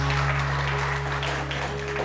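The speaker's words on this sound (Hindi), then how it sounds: "डॉक्टर खुर्रम के लिए बहुत सारी तालियां यार" Studio audience applause on a TV morning show, a moderate patter of clapping over a steady low electrical hum.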